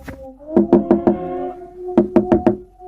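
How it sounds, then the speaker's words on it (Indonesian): Knocking on a wooden door as a story sound effect: two sharp, loud groups of four close raps separated by a short pause, each ringing with a hollow resonance. "Maka aku bergegas menuju rumah tersebut dan mengetuk pintu."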